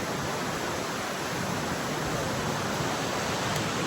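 A waterfall crashing down close by on a Himachal Pradesh mountain trek, a dense, loud and steady roar of falling water with no pauses and no voices.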